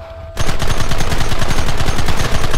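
Gunfire in the video game Red Dead Redemption: a sudden, loud, rapid burst of continuous shots erupts after a brief quiet moment and keeps going in dense rhythmic volleys, with no talking.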